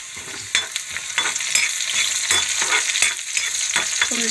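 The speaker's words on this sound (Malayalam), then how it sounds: "അപ്പുറത്ത് ഉള്ളി കാച്ചാലുള്ള ഉള്ളി വെച്ചിട്ടുണ്ട്" Onions frying in hot oil for the tempering of a Kerala egg curry, a steady close sizzle with intermittent stirring scrapes and clinks of a utensil against the pan.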